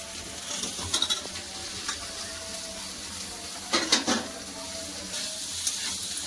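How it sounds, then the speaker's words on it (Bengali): Vegetable stems stir-fry in a pan over a steady background sizzle, with a few louder bursts of spatter and scraping as the spatula turns them. "ডাটাটা ভালো করে কষাও"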